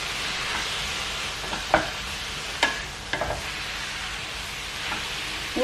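Grated courgettes and chicken breast frying in a pan with softened vegetables, a steady close sizzle broken by a few sharp scrapes and clacks of stirring.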